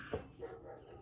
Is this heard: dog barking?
yes